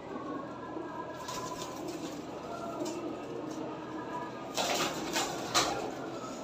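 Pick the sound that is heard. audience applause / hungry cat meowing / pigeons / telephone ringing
pigeons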